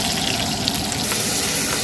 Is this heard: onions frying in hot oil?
yes